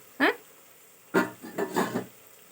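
Curry vegetables tipped into a hot pan land with a few sharp clattering scrapes against the metal, spaced across a couple of seconds, close and moderately loud.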